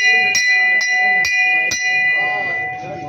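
A bell is struck in a protest outside a tehsil office in Junnar, giving four evenly spaced ringing clangs with a long metallic hum that fades out, while faint voices and crowd noise sit underneath.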